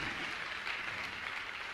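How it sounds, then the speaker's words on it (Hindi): An audience at a Jain religious discourse applauds donors with a short, steady burst of dense clapping that holds evenly throughout. "तालियां उन तक जरूर पहुंचे।"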